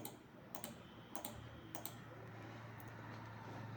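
Computer keyboard keys tapped to operate a Casio fx-991ES Plus calculator emulator on a PC, a few sharp clicks in small pairs over a soft steady room hum, quiet and close, no voices.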